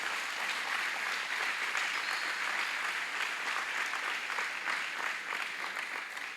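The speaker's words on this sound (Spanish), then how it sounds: "Dale un aplauso al Señor." A church congregation applauding, dense sustained clapping from many hands filling the room at an even loud level for several seconds.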